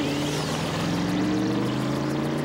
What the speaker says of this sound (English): Hey, that sounds like one of the scooters.